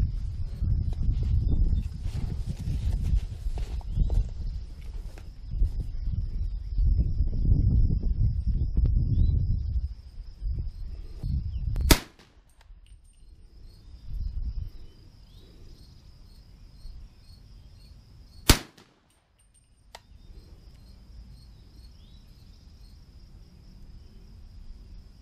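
An AR with a pistol-length gas tube fires 300 AAC Blackout handloads of Berry's 220-grain bullets over 11.5 grains of CFE Black powder; two sharp, isolated shots ring out several seconds apart outdoors, with insects chirping and earlier rumbling noise.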